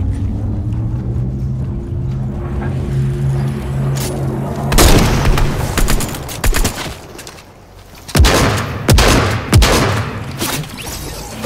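Gunfire and booming shots in a Fortnite match, with a low game hum in the first seconds, then dense bursts of loud cracks and thuds, a brief lull near eight seconds and more heavy bursts after.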